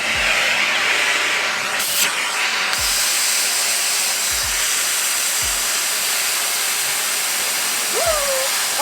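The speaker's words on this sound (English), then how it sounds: "I'm going to switch the Hoover on, and then I'm going to try to suck the air out of it" A Hoover vacuum cleaner runs steadily, drawing the air out of a clothes storage bag with a loud, continuous rushing hiss, broken by a few brief low thumps and a short squeak near the end.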